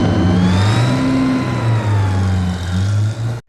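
A sports car engine revs loudly and steadily at close range, with the pitch rising and falling through several surges before cutting off abruptly near the end.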